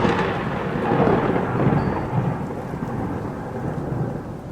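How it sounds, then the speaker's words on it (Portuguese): Deep rolling thunder rumbles continuously with steady rain falling, a dense, sustained storm roar with no voices. "ouviram um barulho que vinha lá de cima, como se muitos trovões caíssem no mesmo momento"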